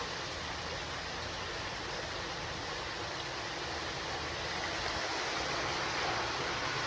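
Creek water rushes steadily along a steep creek bed near an old tunnel, a dense, even wash of flowing water with no talk.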